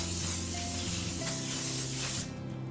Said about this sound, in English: And just for fun, let's just spray it one more time.